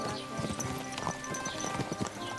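Rhythmic horse hooves clip-clop steadily in Kingdom Come: Deliverance 2, close and moderately loud over a faint game background, with an occasional whinny-like note.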